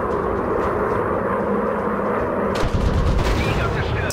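Machine-gun fire from the WW1 fighter plane VR game Warplanes: WW1 Fighters, a rapid burst of rattling shots over a continuous droning aircraft engine, with bursts growing denser in the second half.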